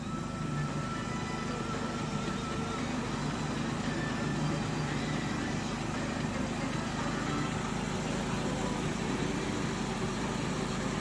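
Radiator cooling fans on a 1997 Dodge Caravan LE spin at low speed, giving a steady, even whir with a low rumble that holds unchanged throughout, fairly quiet and without any talking.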